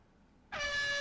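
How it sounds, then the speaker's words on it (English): An air horn blasts suddenly after a brief quiet moment, a loud, sustained, brassy tone that holds to the end. "That air horn is really annoying."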